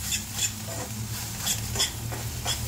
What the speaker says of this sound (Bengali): বেশ একটু ভালো করে এটা ভাজা করে নিচ্ছি।